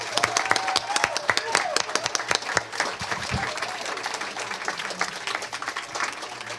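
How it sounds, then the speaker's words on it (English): An audience claps warmly after a public history talk at UVic Café Historique, a dense burst of applause from a roomful of listeners that stays steady throughout. "She even asked for a round of applause to thank the speaker."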